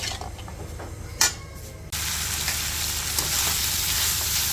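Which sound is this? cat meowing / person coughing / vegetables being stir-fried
vegetables being stir-fried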